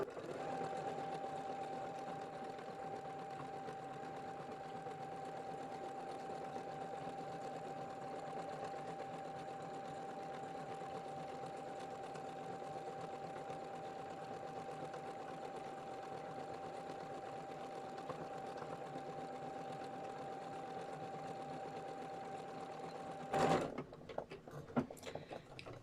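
Sewing machine stitching at a steady, even hum with a constant whirring tone, running alone and fairly quiet, stopping near the end with a couple of clicks and handling noises.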